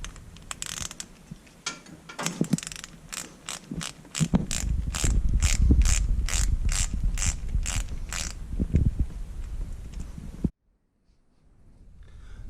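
A ratchet loosens the brake bleeder on a Silverado 1500 caliper, a steady series of crisp clicks close up over a low rumble, ending abruptly in near silence.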